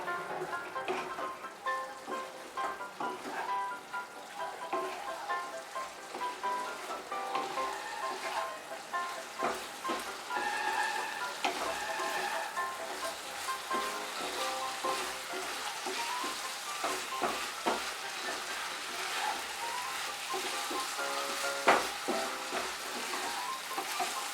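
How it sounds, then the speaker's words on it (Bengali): Flat beans tossed with raw mustard oil in a hot pan for shim chorchuri, a continuous sizzle broken by repeated scrapes and clicks of a spoon stirring, close and fairly loud. "বড় চামচ কাঁচা সরষের তেল দিয়ে দেব। দিয়ে ভালো করে মিশিয়ে নেব।"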